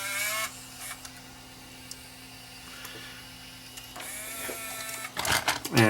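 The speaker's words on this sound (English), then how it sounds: "We'll put the tape in, and you'll observe it thread." A Panasonic PV11d VHS-C palmcorder under repair whirs and clicks as it threads a loaded tape, with a steady motor hum, brief mechanical ticks, and a louder burst of loading noise at the end, close up with no speech.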